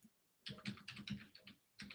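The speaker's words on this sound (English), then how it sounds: "Just typing away there." Someone types on a computer keyboard, rapid bursts of clicky keystrokes close to the microphone, separated by short pauses.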